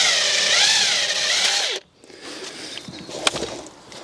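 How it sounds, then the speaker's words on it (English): A power tool undoes a bolt on the rear suspension arm of an E90-generation BMW 3 Series. A loud, close whirring runs for nearly two seconds and then cuts off, followed by quieter metallic clinks and one sharp knock. "and I can take that bolt out then."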